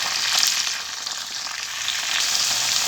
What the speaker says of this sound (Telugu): ఈ పచ్చిమిర్చి బాగా నూనెలో వేగాలి